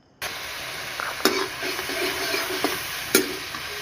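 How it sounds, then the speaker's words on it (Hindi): Cumin seeds and onion frying in hot oil in a kadai give a steady close sizzle. A few soft stirring clinks sound through it, and there is no talk. "कढ़ाई में तेल गरम होने को डाल दिया, जीरा डाल दिया।"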